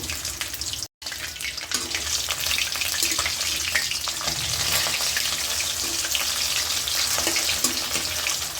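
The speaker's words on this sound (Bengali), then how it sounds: "মাছগুলোকে ভেজে নেব" Long-cut fish pieces rubbed with salt and turmeric fry in hot oil for an okra curry, giving a steady, loud, crackling sizzle throughout, with a very brief silent break near the start.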